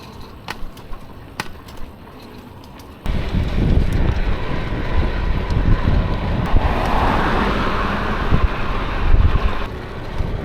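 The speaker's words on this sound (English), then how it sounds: "But they're riding this train car." A train runs along a rail line near a bike path, heard from an electric bike during a commute: a steady, loud rumble of wind and wheels swells suddenly and carries on without pause.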